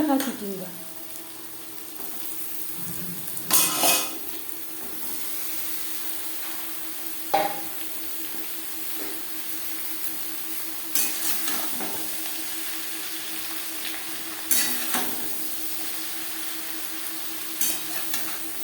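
Onion, jackfruit seeds and green chilli frying in a pan, a low continuous sizzle broken by several sharp scraping bursts of a spatula stirring against the pan at irregular intervals, close by and without speech.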